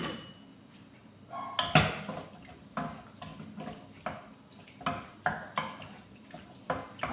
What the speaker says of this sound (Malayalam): നമ്മൾ റെഡിയാക്കി വെച്ചിരിക്കുന്ന പാസ്ത ഇതിനകത്തോട്ട് ഇട്ട് ഇളക്കണം.